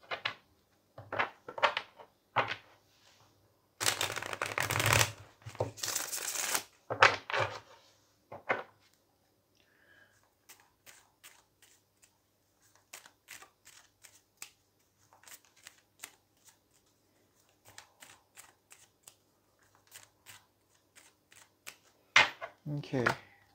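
Tarot cards are shuffled in a few close, crisp riffling bursts, with softer card handling and a quiet voice in between.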